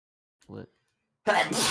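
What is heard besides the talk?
sneeze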